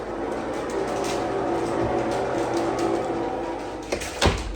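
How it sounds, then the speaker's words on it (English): A Maytag/Whirlpool-style washing machine with a failing transmission runs with a steady droning hum and irregular knocking and grinding clunks, louder thumps near the end. "Does your washer sound like this?"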